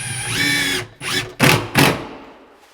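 GRK screws being driven into hardwood with a power drill during kitchen cabinet installation in a cabin: a sustained whirring drive, followed by two short, sharp bursts as the screws seat, loud and close with no talking.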